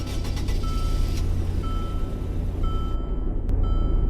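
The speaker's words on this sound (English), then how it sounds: "Here's what it sounds like starting up." A 2019 Stuttgart Landschaft's engine runs at a low, steady idle rumble, fairly quiet and even throughout, with no voices.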